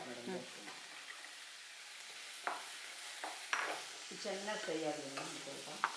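Half a cup of grated coconut fries in a pan with a faint sizzle and light stirring scrapes, while people talk over it.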